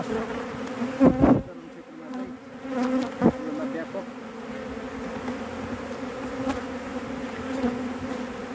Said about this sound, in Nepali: अब हाम्रो मौरी चुरीमा जान्छ।